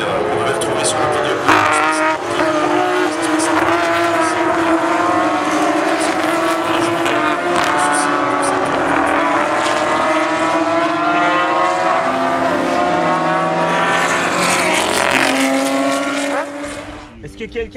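Historic race cars, including a smoking Ford Capri RS 2600, roar past in continuous, loud engine notes whose pitch rises and falls. A commentator talks throughout, and the sound fades at the end.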